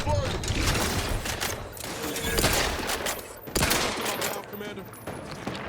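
Gunfire rattles in The Outer Worlds 2 video game, dense rapid bursts of automatic shots and sharp cracks filling the scene, with voices talking over the combat.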